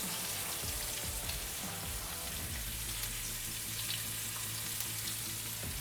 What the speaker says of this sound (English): You hear just a gentle simmer in that.